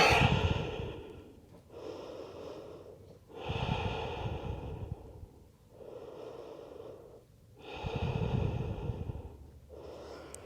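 Deep breathing during a yoga rest: slow, audible breaths alternating in and out about every two seconds, close and fairly loud, each with a soft rushing, slightly snorting texture.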